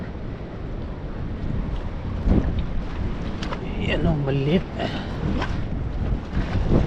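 Steady wind rumbles and buffets the microphone out on open water while fishing from a boat, with someone speaking briefly over it.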